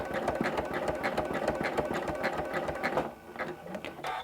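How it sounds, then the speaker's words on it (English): A sewing machine free-motion quilts yarn down onto appliqué, its needle running in a steady, loud, rapid mechanical chatter close by, then slowing and easing off near the end. "we're free motion quilting. That means you have to move the project along as you get going"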